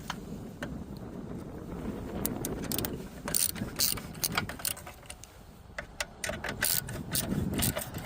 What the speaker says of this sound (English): So for this job I'm gonna use ratchet with 10mm socket.